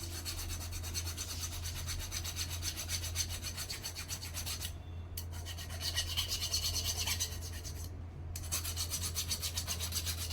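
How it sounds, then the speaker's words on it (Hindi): A copper pipe from an LG double-door fridge condenser is rubbed clean with polish paper or a file, giving steady rasping strokes up close, broken by two short pauses. "इस पाइप को ना सबसे पहले पॉलिश पेपर या फाइल के द्वारा पहले साफ करके लें।"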